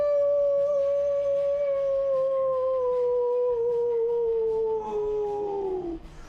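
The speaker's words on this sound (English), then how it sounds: "you redeem a howl" A stream redeem plays a howl sound effect: one long, loud, clear howl that holds steady for several seconds, then slides down and breaks off.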